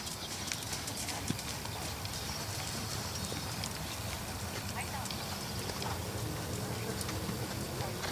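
A horse canters in an arena, its hooves beating a steady, muffled clip-clop under a constant noisy background while a voice speaks.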